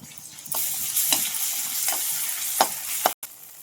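Ginger garlic paste frying and being stirred in a pan for a prawn curry, a steady sizzle with recurring scrape strokes of the spoon against the pan, close and alone.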